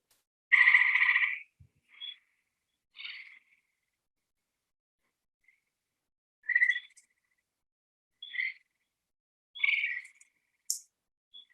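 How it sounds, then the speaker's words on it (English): Gray tree frogs at a vernal pond on a Michigan night give short, bright trills one at a time, spaced several seconds apart over near silence. "on a night, tree frogs highly nocturnal, on a night on our pond out back here, our vernal pond"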